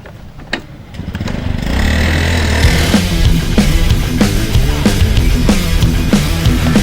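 A motorcycle engine starts up and runs steadily at close range, loud and rough, with a rhythmic throb throughout.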